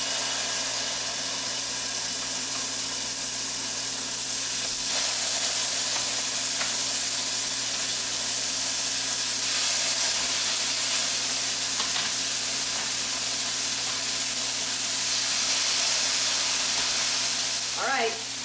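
Burger patties for pimento cheeseburgers fry on a hot surface with a loud, even sizzle that holds steady throughout, close up and without talk.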